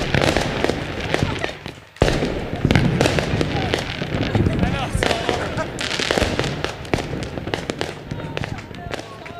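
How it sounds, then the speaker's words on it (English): Fireworks sound effect crackles and bursts continuously in a dense, loud barrage during a live stream, with voices talking over the popping. "That's the fireworks."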